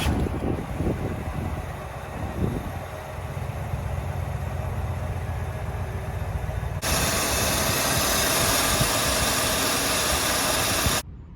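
A 1994 Chevrolet Caprice 9C1 police car with race fuel in its tank idles steadily, then its engine noise jumps to a louder, broader roar that holds until an abrupt cutoff, with a hiss running under the whole stretch.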